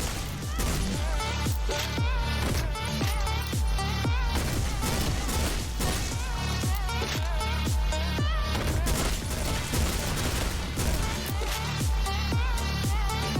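Shotgun blasts fire in rapid, regular succession in the top-down action game OTXO, loud sharp bangs over a dense pulsing music track.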